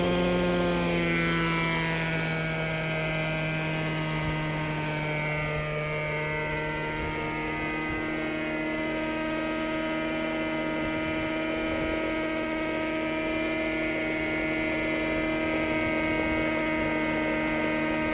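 A radio-controlled helicopter runs at a reduced rotor speed, producing a steady, buzzing motor and rotor whine close by, with its pitch sliding slightly at the start before holding level.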